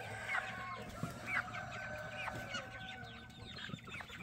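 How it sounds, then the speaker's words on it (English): Serama chickens, a tiny bantam breed, cluck and chatter repeatedly on a homestead, with several overlapping birds calling at moderate distance over a steady background hum. "This is the smallest chicken in the world."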